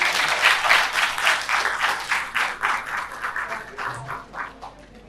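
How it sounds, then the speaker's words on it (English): Audience applause at an academic lecture on Sufism and Gandhian philosophy: a modest crowd claps in distinct, rhythmic bursts that gradually thin and fade toward the end. "I think he deserves a round of applause."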